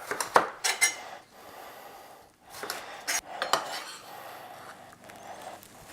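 A knife chops the ends off onions on a cutting board, giving a few sharp clinking knocks in short clusters with quieter scraping and handling between them, close and fairly soft.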